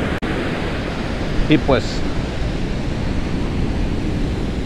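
Ocean surf on Oxnard beach, California, a broad continuous wash of waves and wind noise across the mic, with a brief spoken phrase over it.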